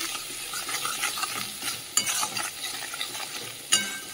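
Spices with fried onion, including ginger-garlic paste, salt, turmeric, cumin and coriander powder, fry in a pan with a constant close sizzle, soft stirring scrapes and two sharper clacks of the spoon against the pan.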